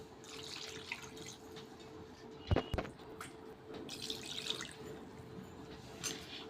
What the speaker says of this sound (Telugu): టీ గ్లాస్తో 2 గ్లాసుల వాటర్ అయితే వేసుకుందాము